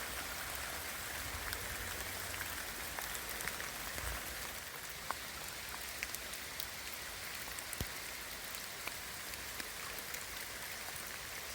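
Heavy rain falls on a campsite at night, a steady dense hiss of drops pattering on surfaces with a few sharper individual drips, continuous throughout with no voices.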